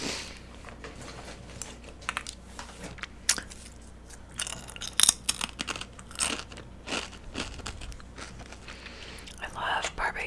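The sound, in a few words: crunching barbecue potato chips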